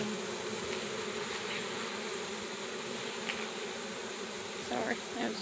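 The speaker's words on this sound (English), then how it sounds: "Angry bees." Agitated bees buzz loudly and continuously at close range, a thick droning swarm with faint scattered knocks near the end.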